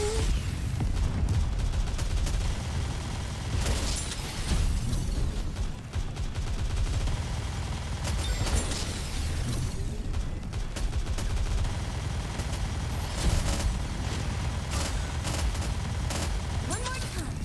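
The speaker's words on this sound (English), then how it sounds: "Immense bombardment." Heavy, continuous gunfire and bombardment from the video game Nikke: Goddess of Victory, dense bursts of shots and booms layered throughout at high volume, with game voices talking over the barrage.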